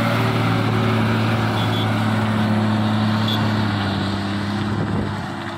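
A Maharashtra-registered truck with an apparently broken silencer labours past on a mountain ghat road, a loud, steady, throbbing engine drone that holds close for several seconds before fading slightly at the end.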